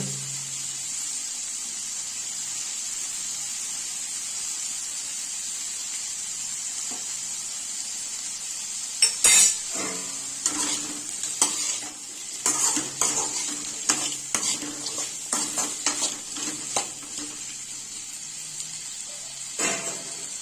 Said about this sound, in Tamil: உருளைக்கிழங்கு நல்லா வதங்குற அளவுக்கு நல்லா கிண்டிக்கங்க.